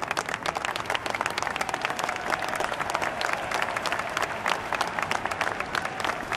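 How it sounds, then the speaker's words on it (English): A large crowd applauding steadily in the video game Hitman, Sapienza level, dense clapping sustained without pause throughout. "please, give a big round of applause"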